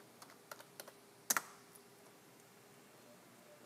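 Keystrokes on a computer keyboard during Rhino 3D modelling work, a few sparse, quiet clicks followed by a brief sharper double tap, then near silence.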